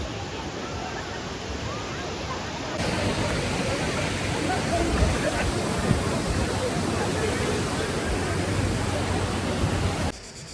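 The Kravica waterfall in southern Bosnia and Herzegovina, crowded with tourists, gives a loud, steady roar of falling water that fills the whole scene and never lets up.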